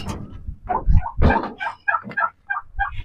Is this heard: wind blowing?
no